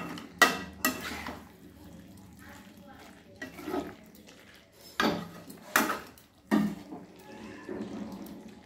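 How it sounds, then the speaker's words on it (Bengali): A spoon scrapes and knocks against a pan while mixed vegetable labra thickened with cornflour is stirred, giving sharp clinks spaced a second or so apart over a low background. "এবার খানিকক্ষণ আমি এইভাবে নাড়িয়ে নেব 2 মিনিট মতো।"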